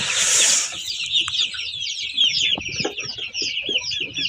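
Kuchin breed hens clucking close by, a loud burst of squawking at the start giving way to a steady run of soft, overlapping clucks and chirps over faint background noise.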